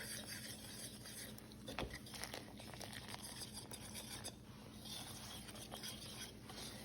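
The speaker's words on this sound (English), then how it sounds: "I'm gonna quickly mix these two together as to not deflate the beer too much." Beer and egg being whisked together for tempura batter, a soft continuous scraping and rubbing in a bowl with faint clinks, steady and close over a constant background hum.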